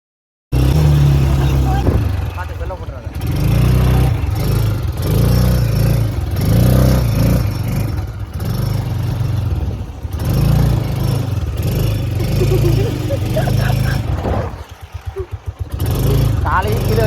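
An ATV engine hums and rumbles steadily while ridden during a holiday ride in Thailand, loud and close with small surges, and someone talks over it throughout.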